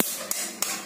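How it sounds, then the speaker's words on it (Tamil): Eggs are cracked for a chocolate cake batter: two or three sharp, short taps of eggshell against a hard edge in quick succession, close and alone in a quiet kitchen. "ஃபர்ஸ்ட் நம்ம இந்த எக்கு வந்து 2 எக்கு உடைச்சு ஊத்திக்கலாம்."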